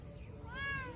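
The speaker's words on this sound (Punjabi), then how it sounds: "ਇਹਨੂੰ ਬਿੱਲੀ ਦੀ ਆਵਾਜ਼ ਆਈ" A cat meows once, a faint, rising-then-falling cry heard indoors at a distance over low background noise.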